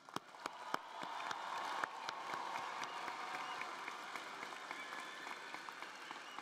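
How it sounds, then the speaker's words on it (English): Applause rolls through the crowd at a Grand Valley State University commencement in April 2023, many hands clapping together with a few sharp nearby claps standing out, fairly faint and steady throughout. "One more round of applause."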